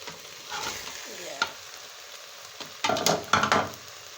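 Beef sizzles in a stew pot while a spoon stirs it, giving soft frying crackle with a few scraping strokes and louder clattering stirs toward the end.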